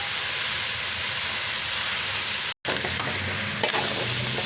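Turmeric and chili fry in a pan without ghee, giving a steady close hiss and sizzle. It cuts out for a moment, then resumes with light stirring scrapes.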